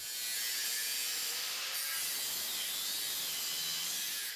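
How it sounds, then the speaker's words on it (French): Metal grinding on a café racer motorcycle's rear frame produces a bright, sustained high-pitched scraping whine with rubbing texture, continuous and fairly close for the whole stretch. "essayez de déjà meuler ici le plus droit possible."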